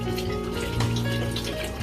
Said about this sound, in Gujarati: જો અહીંયા પાણી નું ટબ ભરાય છે